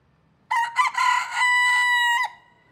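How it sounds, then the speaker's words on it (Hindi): A broiler rooster crows once nearby, a loud, clear call that starts in choppy bursts and ends in a long sustained note. "ये तो डुप्लीकेट मुर्गा है, कभी भी आवाज करता है"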